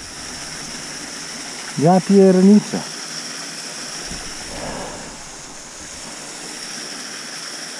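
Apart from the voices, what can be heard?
waterfalls and rushing water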